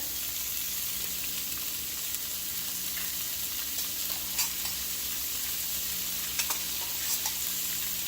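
Paneer stir-fried and tossed in a kadhai with masala and salt, giving a loud, continuous sizzle with occasional light scrapes and clinks of stirring, close up.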